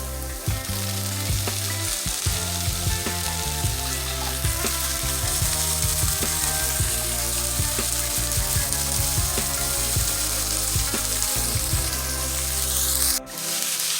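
Ground beef frying in a pan for a minced meat stew, a loud, steady sizzle with scattered scraping and stirring clatter, ending in a short clunk.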